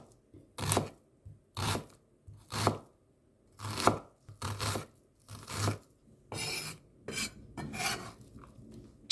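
A knife chops through a peeled, washed onion on a cutting board, about nine firm, evenly paced strikes sounding close and crisp with short pauses between them and no talking.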